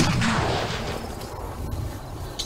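A single loud shotgun blast opening the moment, its boom decaying into a rumbling tail, with faint background noise and a small click near the end.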